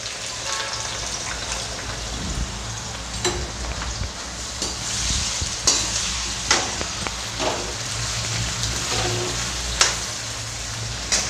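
Onions frying in hot mustard oil in a kadhai, a steady dense sizzle with scattered crackles and occasional spoon scrapes, close and continuous, no voices.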